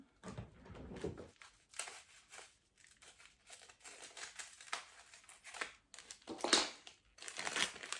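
Crinkling, crackling plastic wrap handled up close in uneven bursts, with snipping and rustling as a package is opened.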